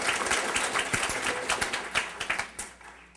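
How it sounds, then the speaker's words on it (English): Audience applause at the opening ceremonies of a 2013 RPC conference, a dense patter of many hands clapping steadily throughout, fairly loud and filling the space, with a few sharper individual claps standing out near the end. "Again, a big round of applause for our contributors."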